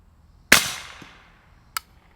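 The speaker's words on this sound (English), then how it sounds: "So my first thoughts after shooting a 36L on a handy rifle, it's quiet, but it's got a little snap." A single sharp suppressed rifle shot through a Wolfpack Armory Disruptor 36L suppressor on a handy rifle, a loud close snap with a decaying tail, followed about a second later by a brief crisp crack or echo.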